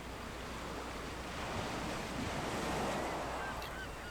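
Ocean waves crashing against rocks in the video game Second Life, a steady, soft wash of surf with gentle swells, faint and continuous with a breezy hiss.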